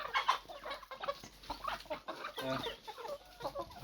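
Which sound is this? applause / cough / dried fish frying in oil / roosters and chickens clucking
roosters and chickens clucking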